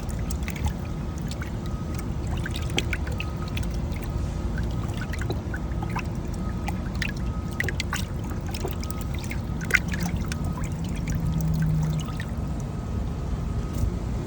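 Water pours and trickles steadily onto a microfiber towel to soak it, a continuous close splashing wash with small drips and clinks throughout.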